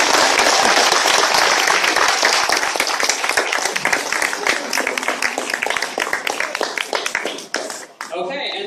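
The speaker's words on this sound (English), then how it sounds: "let's give him a round of applause" A convention panel audience at New York Comic Con bursts into loud, sustained applause that gradually thins into scattered individual claps before dying away, with a voice heard near the end.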